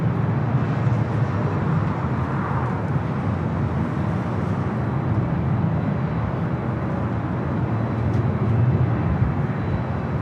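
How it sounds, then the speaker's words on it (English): A Delta Boeing 767 airliner at Los Angeles International Airport produces a steady distant jet roar, a low rumbling wash of engine noise that stays even throughout. "Delta 767 heading over to 24 left."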